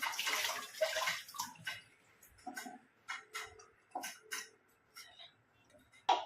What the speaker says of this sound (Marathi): दिवासा स्वच्छ पाण्याने धुवून घेऊन त्याला पुसून देवाजवळ लावून घ्या